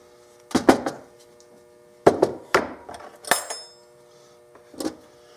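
Lead ingots knocked out of a casting mold, heard as a handful of separate hard metallic clunks and knocks spaced a second or so apart, one with a brief bright ring, close and fairly loud with quiet between.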